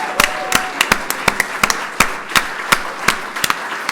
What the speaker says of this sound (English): Let's have a round of applause for our illustrious recipients.